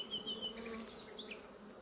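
Swarm of bees from an aggressive beehive at an apiary, a steady, close, continuous buzzing drone with individual insects whining past, no voices.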